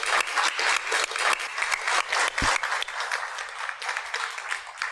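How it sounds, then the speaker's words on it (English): Applause for military veterans rings out in a courtroom-style show, a steady wash of many hands clapping that holds for several seconds with no talk over it. "I think we give a round of applause to the people who've served our country."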